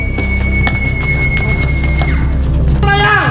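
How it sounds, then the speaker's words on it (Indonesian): A scream sound effect in an Indonesian horror story about a kuyang haunting a school: a loud, shrill, sustained shriek with wavering pitch that climbs higher at the end. "Tiba-tiba terdengar jeritan."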